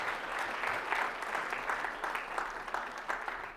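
A church congregation applauds steadily throughout, a dense patter of clapping hands at moderate distance with no speech over it.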